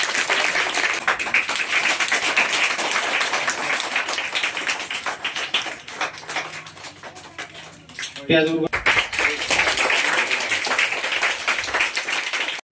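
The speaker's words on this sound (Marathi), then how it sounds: "त्यांचं एकदा टाळ्या वाजवून स्वागत करूया।" Sustained applause from a crowd welcoming the start of the 2025-26 school year, a dense, steady patter of clapping that briefly dips near the end before surging back.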